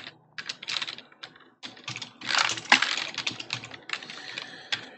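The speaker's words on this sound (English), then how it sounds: "Press all of the buttons on the keyboard." Rapid, irregular clacking of computer keyboard keys as someone hammers many buttons at once while playing Graveyard Keeper, bursts of clatter with short pauses, close and fairly loud, no voices.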